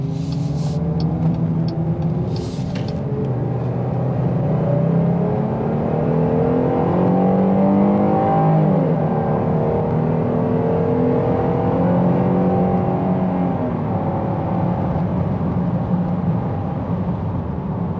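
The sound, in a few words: 2021 Jeep Grand Cherokee L V6 engine accelerating uphill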